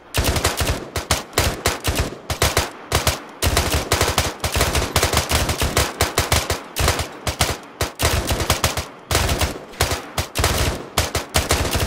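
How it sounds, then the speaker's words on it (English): Squad gunfire in a military shooter game, dense rapid bursts of automatic fire from several guns layered together, loud and near, with only brief gaps between volleys across the whole stretch. "Alright, open fire. Everyone open fire."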